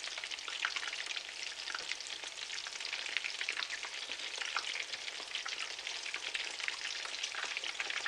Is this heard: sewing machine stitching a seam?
no